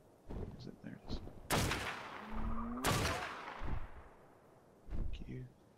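Gunfire in Ark: Survival Evolved aimed at a flying Tyranodon, two sharp loud cracks about a second apart with ringing tails, mixed with shouted voices and other game noise.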